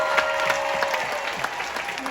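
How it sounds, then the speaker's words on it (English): Audience at a cruise ship show on the Carnival Liberty clapping for a couple taking seats, a lively round of applause with individual claps standing out and voices talking underneath. "Give them a massive round of applause."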